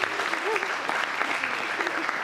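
Audience applause for a chemistry experiment show, a steady patter of clapping hands from a crowd, fairly loud and sustained throughout with a voice briefly heard among it.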